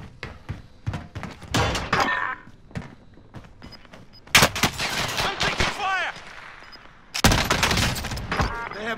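Gunfire in Call of Duty: Modern Warfare ground-loot mode, with bursts of shots, thuds and rapid automatic fire coming in clusters, loud at times, and a voice talking briefly between the volleys.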